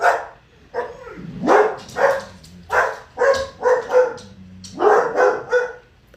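Several dogs bark repeatedly at close range in an irregular series of loud, sharp barks with a few whiny yips between them, with no talk over them.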